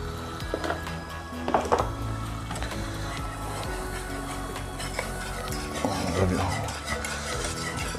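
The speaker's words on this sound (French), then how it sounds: "Je mélange." A spoon stirs flour and cornstarch into melted butter in a pan over lowered heat for a lasagna roux, steady scraping and swirling close up with faint sizzling and a few clinks, no voices.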